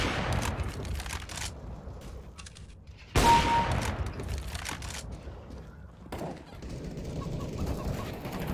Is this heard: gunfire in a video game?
yes